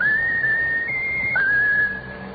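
A pet bird whistles a short tune, bright and close, a sustained wavering note that steps up, then drops and holds before fading.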